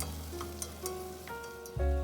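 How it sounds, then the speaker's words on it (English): Onions fry in hot oil for a South Sudanese beef stew, giving a quiet, close sizzle with soft clinks and stirring sounds. "I start by heating some oil and fry the onions."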